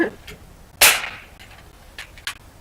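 A single airsoft gun shot cracks out sharply and close, with faint clicks and handling noises around it and brief background voices.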